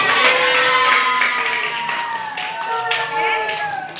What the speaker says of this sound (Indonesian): Tepuk tangan untuk Tiara.